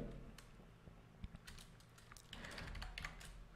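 Code being typed on a computer keyboard while editing a CSS file, with faint, scattered soft key clicks and taps at close range over low background hum, no voice.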